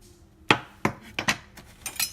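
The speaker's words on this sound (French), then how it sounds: "Ensuite, on coupe également en petits morceaux." A knife chopping a tomato into small pieces on a board, five or six sharp, close taps at an uneven pace with short gaps of quiet between them.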